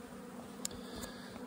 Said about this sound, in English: But the bees are flying, so we're making the best of it.